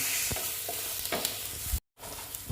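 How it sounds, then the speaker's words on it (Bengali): Katla fish pieces with turmeric frying in oil, a steady close sizzle with a few stirring knocks and a brief silent gap near the end. "হলুদ দিয়ে দিলাম দিয়ে স্কিনটা আমি কমিয়ে দিয়েছি কমিয়ে এটা একটু ভেজে নিচ্ছি"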